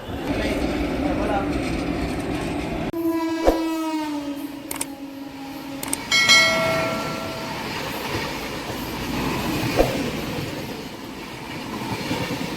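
A train rolls into Gooty Junction on the Kurnool route with a steady rumble and clacking wheels, passing tonal horn-like whines and squeals midway, while someone talks over it.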